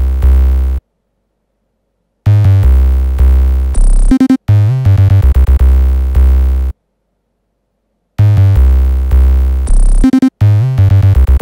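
An 808 bass pattern programmed in FL Studio 21 for a fast, aggressive beat plays alone: loud booming sub-bass hits with gliding, sliding notes, broken by short gaps of silence.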